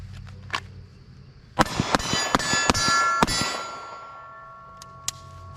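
Handgun shots fired while slowly stepping back during carry practice, about five sharp, loud reports in quick succession, with ringing metallic clangs of steel targets trailing after them.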